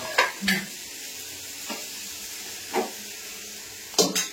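Oil hisses and sizzles steadily in a pan as spices temper, broken by a few sharp utensil scrapes, close and fairly quiet, with no talking.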